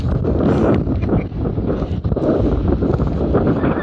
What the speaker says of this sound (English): we're getting some breeze